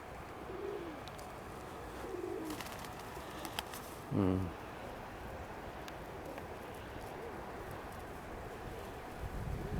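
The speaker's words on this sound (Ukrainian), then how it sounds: "Наші голуби, як кажуть, в траві груть." Pigeons coo softly outdoors amid steady wind noise, with a brief louder vocal sound partway through.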